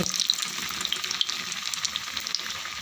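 Bread bajji frying in hot oil, a dense crackling sizzle with bubbling pops, close and fairly loud, no speech.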